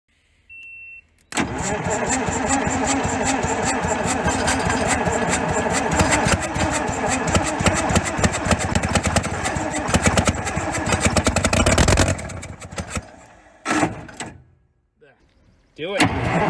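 A Detroit Diesel 4-71 in a Dynahoe 200-4 backhoe cranks and catches, then runs as a loud, rough, rapid diesel clatter for about ten seconds before cutting out and briefly firing again.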